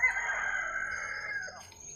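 A rooster crows once, loud and fairly close, a single drawn-out call lasting over a second outdoors by a river, with no talking.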